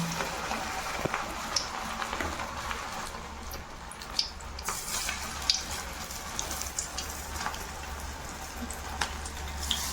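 Crispy rice pakoras (bhajiya) frying in hot oil, a continuous bubbling sizzle with scattered crackles and pops at a steady, moderate level.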